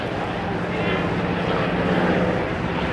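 A Collings Foundation Corsair propeller fighter fly-by at the NAS Oceana airshow gives a loud, steady engine roar and airscrew drone that swells slightly as it passes.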